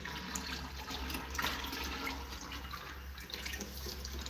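Groundnut oil pours steadily into a drum for natural settling and filtering, giving a continuous soft liquid trickle and splash with no talk, moderately quiet throughout.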